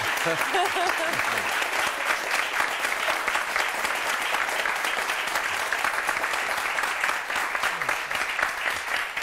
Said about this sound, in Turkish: Ben bunu ayakta alkışlarım